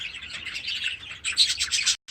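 A young budgie chick chirps in a breeding nest, giving rapid high-pitched twittering in two close bursts separated by a short pause, then stops abruptly.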